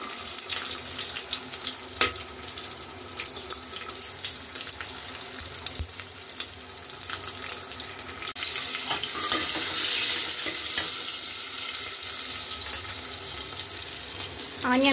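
Onions fry in oil in a pan, a steady hiss and sizzle that grows louder and denser partway through, with occasional clinks close by and no clear talking.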